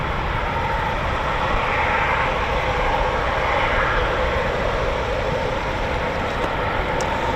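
A Eurofighter Typhoon FGR4 jet at RAF Coningsby roars as a loud, unbroken broadband rumble. The noise holds steady throughout with no break.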